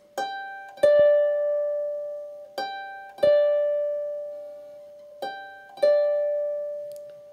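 Harp plucks short phrases of the tune Jock O'Hazeldean, each opening with a quick grace note on G before the main note, with bright ringing tones that decay slowly between the pairs of plucks.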